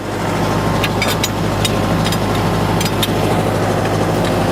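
A tractor's engine drones steadily as it pulls a moldboard plow through a field furrow, a constant low, loud rumble running without a break, with faint higher rattles and clinks on top.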